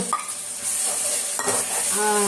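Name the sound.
ground masala frying in oil for egg kuzhambu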